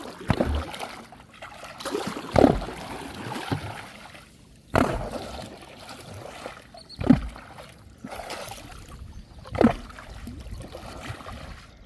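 A wooden pole beats river water from a boat to drive fish toward a net, giving five heavy splashing thuds spaced a couple of seconds apart over quiet flowing water.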